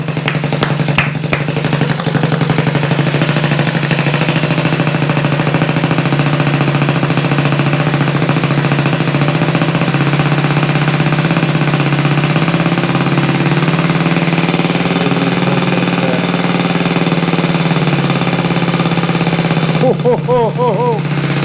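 A restored Honda Z50A mini motorcycle engine idles steadily and loudly up close, a constant rough putter holding for about twenty seconds, with a brief voice near the end.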